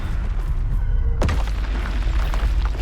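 A Confringo blasting spell in the Hogwarts Legacy video game goes off in a single sudden, heavy boom about midway through, followed by a rumbling decay over steady game ambience.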